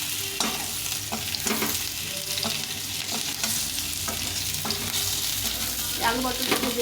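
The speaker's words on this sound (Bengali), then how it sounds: "এখন এই পটলটা এর মধ্যে দিয়ে ভেজে নেব।" Pointed gourd pieces fry with already-fried potato in oil tempered with cumin in a pan, a steady close sizzle broken by repeated scraping stirs of a spatula, no voices.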